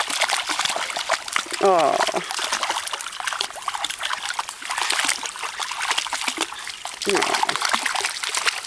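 Puppies splash and paddle in a backyard pond, with trickling and splattering water throughout, a couple of short sliding whimper-like cries, and brief human exclamations.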